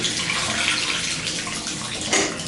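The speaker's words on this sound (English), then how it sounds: "Everything drains out nicely." Water draining and running from a bathroom tub, a steady broadband rush and gurgle that stays fairly loud and continuous throughout, with no talking.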